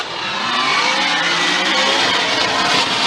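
Drift cars, a Nissan 370Z and a supercharged V8 G37, race side by side with a loud, sustained engine roar, tire noise and rising revs, close and continuous without speech.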